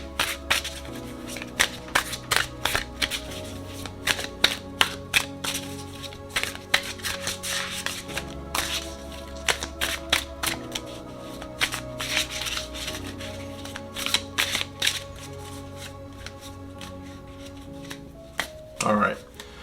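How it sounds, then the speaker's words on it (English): A deck of tarot cards is shuffled by hand, with crisp rapid riffles and slaps in irregular bursts throughout, close and clear over a steady low hum. "So let's go ahead and shuffle and see what we get."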